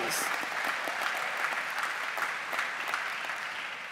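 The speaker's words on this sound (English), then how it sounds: "Yes, let's clap that." Sustained audience applause fills a hall at a teachers' union assembly, a dense, steady wash of clapping that stays loud throughout and fades slightly toward the end, with no speech over it.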